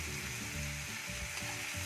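Chilli momo stirred in a hot pan with green chillies and tomato, a steady close sizzle and frying hiss with soft scraping stirs throughout, no voices.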